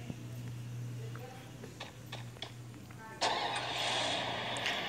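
A car engine in the video game Free Fire, a low steady hum that gives way to a louder, brighter roar as it revs up, with faint background game noises and no talk over it.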